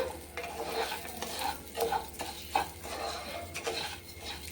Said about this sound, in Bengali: চালটা দিয়ে ভালো করে ভেজে নিতে হবে